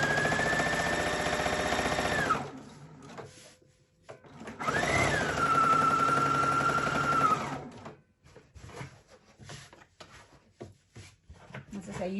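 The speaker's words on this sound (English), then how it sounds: "just stitching the pocket panel to the backing, so straight along the edge there." A sewing machine top-stitches a quilt's pocket panel onto its backing in a straight line along the edge. It runs in two steady whirring bursts with a short pause between them, then goes quiet apart from faint handling noises.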